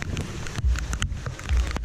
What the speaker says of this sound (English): walking back to the ship